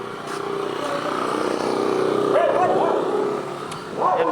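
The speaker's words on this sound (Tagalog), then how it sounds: "narinig nyo, itong mahal na aso sa amin." A dog barks and yips a few times at a distance over a steady hum of engine noise from passing traffic.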